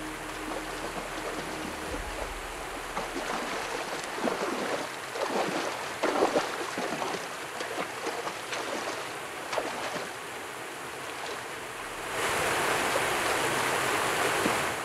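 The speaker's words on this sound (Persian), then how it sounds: "حالا دیگر صدای برخورد آب به این سنگ‌های بزرگ درون تنگه می‌پیچد" River water rushing and crashing against large boulders inside the narrow, shaded Kul-Pir gorge, a steady loud broadband roar with surging splashes, swelling louder toward the end.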